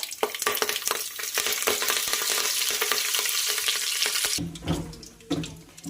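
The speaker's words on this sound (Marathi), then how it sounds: "मोहरी छान तडतडत आहे यानंतर घालूया जिरे" Mustard seeds, cumin and curry leaves sizzle and pop in hot oil, a loud, busy crackle with frequent sharp spatters, changing near the end into a brief running-water wash and scattered clatter.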